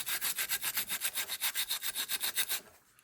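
A folded Scotch-Brite pad scrubs paint off an RC truck body, giving a fast, even run of about twenty back-and-forth rasping strokes, close and loud, that stop abruptly near the end.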